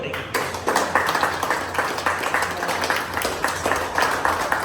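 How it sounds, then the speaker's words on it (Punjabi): A group of people clapping in a gym, with steady, close applause running continuously and evenly throughout. "ਤਾੜੀਆਂ ਮਾਰੋ"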